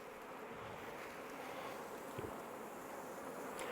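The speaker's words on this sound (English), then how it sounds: "These are European honeybees." A colony of European honeybees gives a steady, dense buzz from close by at the hive box, faint and unbroken for a few seconds.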